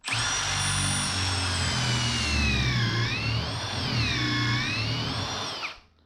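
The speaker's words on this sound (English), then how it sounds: "Take your drill and stick it in the hole" A power drill whines steadily at high speed for several seconds, its pitch dipping and rising as it bores a pocket hole into wood using a Kreg jig, then stops abruptly.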